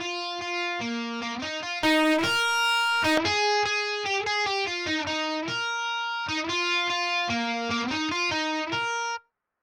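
A bright, gritty supersaw synth riff with saturated distortion from Decapitator and Camel Crusher plugins plays a repeating stabbing pattern, loud and upfront, with no voices.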